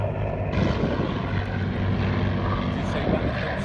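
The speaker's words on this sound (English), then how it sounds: "We've got the 2 Spitfires, the M9 and M11" Two Spitfire aircraft pass by at an air show at Duxford, a loud sustained propeller-engine roar that swells and holds throughout, with crowd voices mixed in.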